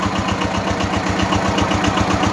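A homemade generator built from an old electric motor runs steadily, giving a loud, close, rapid rhythmic mechanical thrum with a regular pulsing beat.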